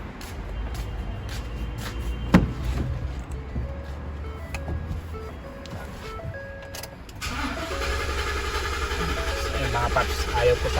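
A 2016 Ford Raptor with a 6.2 L engine and a weak battery cranks without starting, giving a steady mechanical whirring drone after a few clicks and chimes, with a voice speaking at the start.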